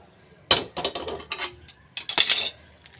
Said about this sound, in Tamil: பொட்டுக்கடலையும் நல்லா லைட்டாக வறுத்தாச்சு அதையும் வேறு பாத்திரத்தில் கொட்டிக்கிறேன்